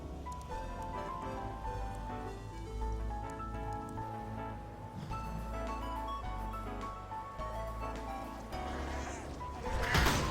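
Many goats bleat over and over in a crowded, continuous chorus in the video game Path of Exile, against a background hum, with a louder burst of noise right at the end.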